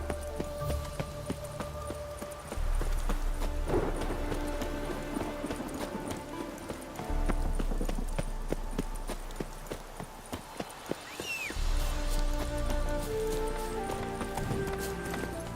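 Hooves of a horse clip-clop at a gallop in The Witcher 3, a steady rhythmic beat under a swelling game music score, with a faint neigh as the pace carries on.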